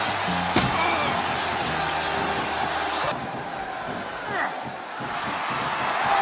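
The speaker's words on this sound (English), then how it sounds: "I think these superstars are getting some feedback from the crowd, JR." A large crowd in the WWE 2K24 video game roars and cheers continuously during a Royal Rumble match, a dense wash of cheering that holds steady, then thins slightly before swelling again.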